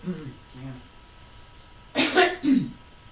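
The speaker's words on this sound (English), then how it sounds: "I was checking the screen and clearing my throat all at the same time" After a few soft spoken syllables and a pause, someone clears their throat twice in quick, gruff bursts close by.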